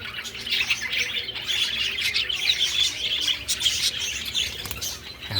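A flock of parakeets in a flight cage chirps and tweets constantly, dense overlapping high calls with occasional wing flutter, fairly close and lively throughout.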